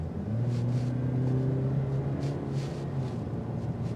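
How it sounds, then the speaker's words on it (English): A 2026 Cadillac CT4 Premium Luxury sedan at full throttle from about 40 mph, a steady close engine drone with rising tonal lines as it accelerates, heard from the cabin without talk. "And now we're going to floor it."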